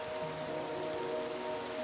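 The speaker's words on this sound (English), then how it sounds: "of course it rains" Steady rain pours down in a Minecraft world during a hardcore build of a stone-brick stairway, a constant hiss of falling drops with no breaks across the short stretch.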